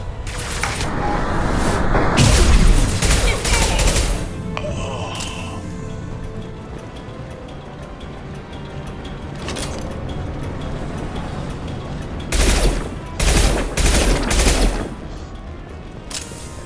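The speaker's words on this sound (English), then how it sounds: "Firing concussive shots!" Concussive shots fired in the video game Mass Effect 2 during a combat fight: heavy booming blasts come in clusters at the start and again near the end, with game ambience in between.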